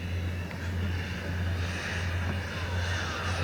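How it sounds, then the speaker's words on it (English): A jet-powered radio-controlled model plane, a Sukhoi type, flies at an outdoor show, making a steady turbine whine and roar. The sound holds at a constant level throughout and does not build or fade. "It's weird how these planes are sort of little jets, eh?"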